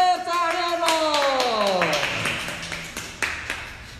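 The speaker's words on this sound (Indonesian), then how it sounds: "kita akan sambut dengan tepuk tangan meriah" An audience at an Indonesian soap sales seminar breaks into clapping to welcome the company founder on stage, a steady spread of hand claps following a falling voiced tone at the start.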